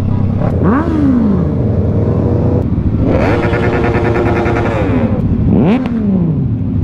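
A motorcycle at a large rider gathering revs loudly and close by, its pitch climbing and falling in several sharp bursts over a constant engine drone.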